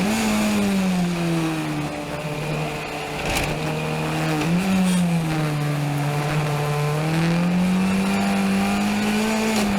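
A loud, sustained race car engine drones at high revs, pitch dipping and climbing as it shifts and corners, with no talking.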